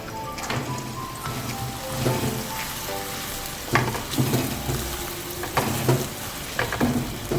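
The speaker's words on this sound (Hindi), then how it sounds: "देखिए सबसे पहले मैं इसमें ये चॉप की हुई प्याज फ्राई करूँगी।" Chopped onions fry in four to six tablespoons of oil in a karahi for hariyali chicken, making a close, continuous crackling sizzle with intermittent stirring bursts and no voices.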